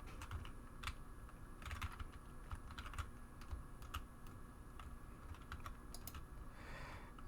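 Rapid, irregular clicking of computer keyboard keys being pressed, steady and fairly close, with no voices.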